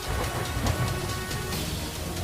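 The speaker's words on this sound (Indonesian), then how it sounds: "Hujan datang dengan derasnya." Heavy rain pours down in a dense, steady hiss of broadband noise, loud and unbroken for the whole short stretch with no voices.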